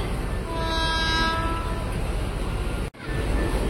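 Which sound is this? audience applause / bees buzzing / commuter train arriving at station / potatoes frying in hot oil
commuter train arriving at station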